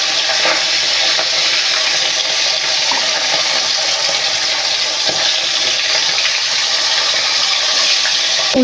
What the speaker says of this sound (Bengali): এবার আমি মাছগুলোকে ভেজে নেব।